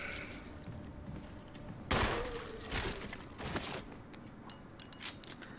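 Gunfire as a zombie is killed in the PC game Resident Evil HD Remaster: a sharp shot stands out near the two-second mark, followed by a few softer impacts and mechanical clicks over a steady game ambience.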